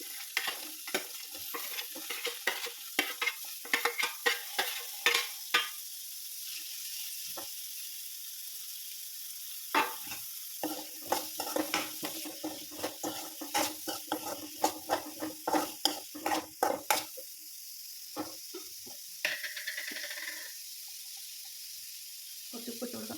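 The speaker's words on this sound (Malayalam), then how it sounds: "സവാള ഇട്ട് കൊടുക്കും" Sliced onions fry and get stirred in a pan while making a sausage roast: a steady sizzle with clusters of sharp spatula scrapes and clatters, busy at first, pausing, then resuming, close and fairly loud.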